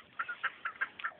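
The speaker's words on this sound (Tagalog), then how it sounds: "Maraming manok." Chickens on a farm give a string of short, bright clucks, about six quick calls in close succession at moderate loudness, with no talk.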